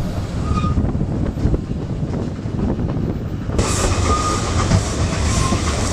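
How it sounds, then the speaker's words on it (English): A narrow-gauge train on the Welsh Highland Railway rumbles steadily across a river bridge with rattling wheels, the sound brightening and growing slightly louder partway through as it rolls onward. "the train crosses over the river"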